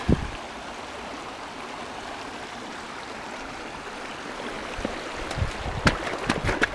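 North Tarryall Creek in the Colorado mountains rushes steadily in a continuous watery hiss, close by, with a few splashes and knocks near the start and end.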